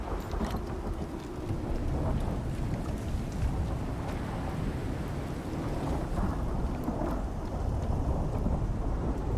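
A thunderstorm in the survival game Icarus rumbles and hisses with continuous heavy rain and deep rolling thunder, dense and loud throughout with no voices.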